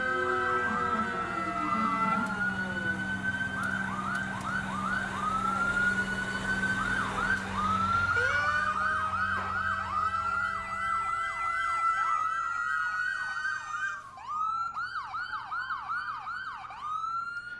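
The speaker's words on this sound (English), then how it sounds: "that is my favorite siren, the old-fashioned wailing kind" An old-fashioned wailing emergency siren rises and falls in repeated sweeping cycles, with a second siren joining partway through, passing near a residential street drive-by birthday celebration; traffic rumble sits underneath and no one speaks.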